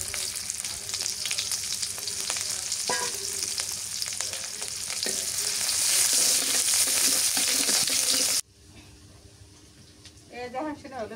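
Garlic and onion hit hot oil already tempered with black cumin seeds, a loud steady sizzle that cuts off sharply near the end, leaving quieter frying and a voice speaking.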